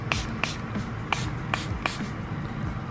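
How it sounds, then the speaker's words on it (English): A handheld spray bottle mists indoor plants in a home kitchen, with about six short, sharp hissing spritzes in a loose, uneven rhythm, close and clear over a low background hum. "Let me spray them."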